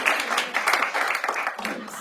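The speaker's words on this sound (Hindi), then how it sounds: "एक बार वैभव के लिए जोरदार तालियां" Audience applause for a contestant on a comedy game show, a dense steady patter of many hands clapping with some cheering mixed in, holding fairly loud for the full two seconds.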